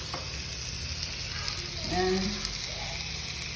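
Oil sizzles in a heating kadahi with a steady, close hiss, while a voice speaks briefly over it.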